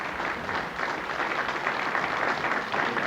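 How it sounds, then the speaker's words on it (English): Studio audience at a 1984 Channel 7 World of Sport 25th anniversary television show applauds Uncle Doug, a steady dense wash of clapping held at an even level for several seconds. "Could we have a round of applause, though, for dear old Uncle Doug?"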